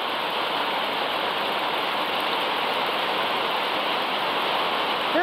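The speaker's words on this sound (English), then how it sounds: "it's dripping off the roof" Steady broadband wash of rainwater spilling and dripping off a roof during a windy storm, a continuous close hiss without pauses and no talking.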